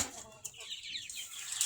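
Domestic desi chickens being fed on a rooftop in the morning, with soft clucking and a brief flutter of wings, fairly faint and close, along with a little background noise.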